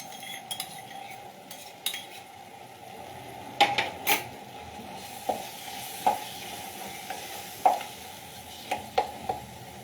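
Fried dry fruits and grated paneer stirred in a pan, a faint background sizzle broken by repeated light clinks and scrapes of a spoon against the metal.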